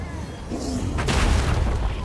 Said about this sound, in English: And the cannon is taking shots, which has an impact on morale.